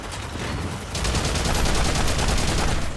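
Rapid automatic gunfire in the PS3 video game Haze, a loud dense burst of repeated shots that steps up in intensity after the first second and continues steadily to the end.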